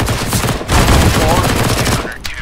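Rapid automatic gunfire from a CS:GO match, loud and continuous bursts of close rifle fire layered together, ending with a sharp crack.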